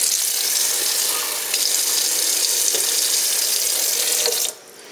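Tap water runs in a steady hiss into a kitchen bowl of quiche pastry dough, loud and continuous for several seconds before the flow is shut off abruptly near the end.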